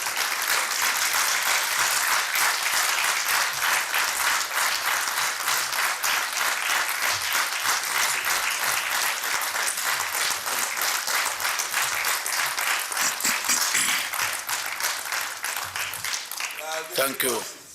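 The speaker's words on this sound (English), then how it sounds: "We stand up in his honor and we clap" A standing audience in the Pan-African Parliament chamber applauds in honor of a dignitary invited to the podium: dense, loud, continuous clapping fills the whole stretch, with crowd murmur underneath, fading as a single voice begins speaking at the very end.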